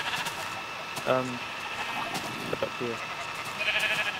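Sheep in the video game Minecraft let out two short bleats, clear and close, while a player speaks briefly over a steady background hum.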